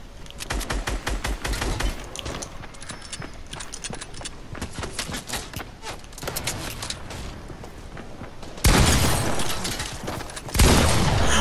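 Pump shotgun fire in a video game comes as loud, close gunfire: dense rapid bursts of shots fill most of the stretch, then two heavy, sustained blasts near the end, with no voices.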